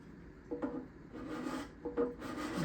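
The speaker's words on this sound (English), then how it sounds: "I'm going to go back to the other scraper" A scraper drawn over the back side bindings in a few separate rasping strokes, dry and quiet, close up with short pauses between passes.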